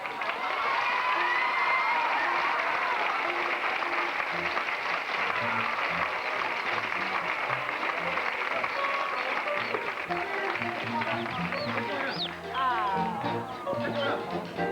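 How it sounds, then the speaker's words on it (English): A studio audience at a chicken wedding skit on a television talk show applauds and cheers steadily and loudly for a long stretch, a dense wash of clapping with scattered voices and a few shouts rising near the end. "You may all applaud."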